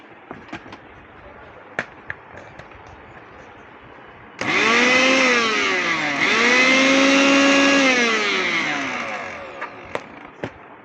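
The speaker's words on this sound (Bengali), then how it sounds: "দেখুন ব্লেন্ডারটি।" A Vision 1200 watt electric blender starts up abruptly and runs loud for several seconds, its motor whine dipping as it loads and then rising again before winding down, with scattered clicks and handling knocks before and after.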